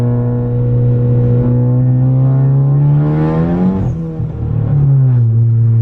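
A Ford car's engine revs hard while driving, a loud, steady harmonic drone that rises in pitch, dips briefly as revs drop, then climbs again, close and continuous with no talking.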